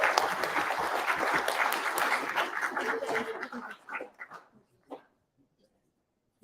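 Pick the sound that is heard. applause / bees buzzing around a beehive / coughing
applause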